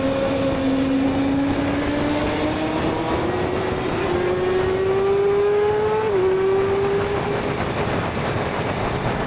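Car on the Tail of the Dragon road doing a flyby past a lookout point, its engine holding a loud sustained drone that climbs steadily in pitch with a brief gear-change dip, accompanied by road and wind roar.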